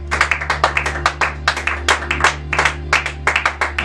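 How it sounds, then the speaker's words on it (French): A church congregation claps along at a Sunday service, a steady rhythmic stream of hand claps close by over a low sustained organ or keyboard hum. "Je voudrais qu'on acclame la parole de ce matin."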